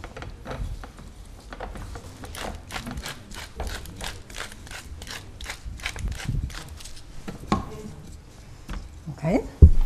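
A pepper mill twisted over potatoes in a home kitchen, giving a fast run of close, crunchy ratcheting clicks that end in a few heavier knocks.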